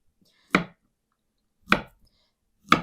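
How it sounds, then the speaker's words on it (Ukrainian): Peeled bananas are sliced into rings on a board, giving three separate close, crisp knife chops about a second apart, with silence between them and no speech. "Банани буду так обчищати по одному."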